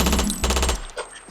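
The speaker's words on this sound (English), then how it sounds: "tons of guns going off and firecrackers and fireworks." Rapid automatic gunfire crackles in a dense burst of overlapping shots, loud and close, then quickly tapers into a few scattered pops.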